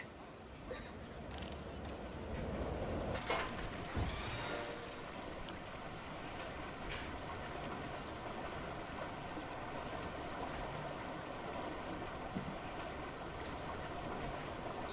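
Rushing, splashing water noise from a water coaster ride in the theme-park game Planet Coaster, a steady broad wash running throughout with a brief louder surge near the start.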